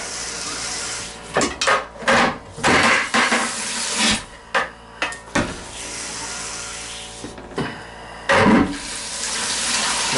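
Water flushing down a drain while a seasonal home is winterized, rushing and gurgling in bursts with clunky knocks between them, close and fairly loud, no talk.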